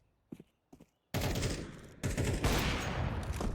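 Rapid gunfire erupts in a Counter-Strike gunfight, beginning with a few faint shots and then becoming a loud, sustained burst of automatic fire that continues to the end.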